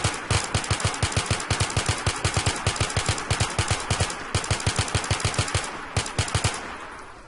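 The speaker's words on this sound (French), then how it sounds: "Donc, les batteuses, hein, c'est pas compliqué, tu tires et..." Rapid automatic gunfire from a machine gun in a modded Minecraft game, long sustained bursts of evenly spaced sharp shots with a brief pause midway, loud and close with no talking.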